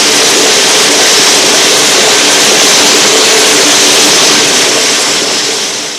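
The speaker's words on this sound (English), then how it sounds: "The bandsaw produces less waste than a circular saw blade due to the reduced thickness of the segments" A diamond-segment bandsaw slices through a block of stone, producing a loud, steady broadband grinding roar that holds constant throughout, with no voices.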